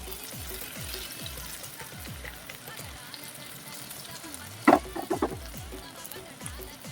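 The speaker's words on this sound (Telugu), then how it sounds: "కాలితే మరి మనం ఆయిల్ వేడెక్కినాక ఒక పీసులా మనం ఫ్రై చేసుకోవాలి" Chicken 65 pieces frying in hot oil, with a steady low crackle and sizzle running throughout and a brief louder splash or stir near the middle.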